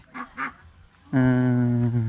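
Ducks raised on a Vietnamese farm give two short calls, then one loud, long, nasal honking call that holds steady nearby until the end.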